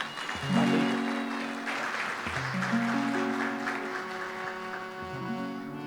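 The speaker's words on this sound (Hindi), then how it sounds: "जोरदार तालियां, जोरदार तालियां।" Audience applause at a Christmas carol program, a dense steady wash of clapping lasting throughout with sustained music tones beneath it.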